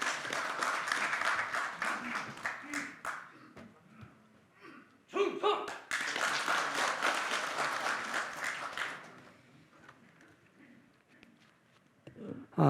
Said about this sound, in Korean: 박수로 맞아주시길 바랍니다